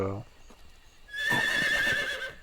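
A short low sound opens, then a loud horse neigh rises and rings out for over a second, fairly close, in the video game Metal Gear Solid Snake Eater.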